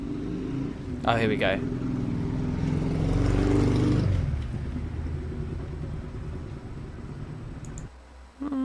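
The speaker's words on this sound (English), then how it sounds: "maybe I should type in F1 car pass." A Formula 1 car pass-by sound effect sample plays as a swelling rumble that builds for a second or two and then fades, with a person talking briefly just before it.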